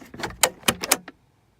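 A Mini Cooper R58 Coupe's glove box lid is slammed shut several times in quick succession, giving a cluster of sharp, close plastic thumps and latch clicks over about a second, followed by silence.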